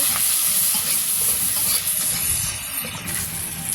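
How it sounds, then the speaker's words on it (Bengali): Onions and green chilies frying in a pan for a village-style fish curry, a loud continuous sizzle and hiss close by, with stirring scrapes and no talking. "তো পেঁয়াজ কাঁচা মরিচ ভাজা হয়েছে"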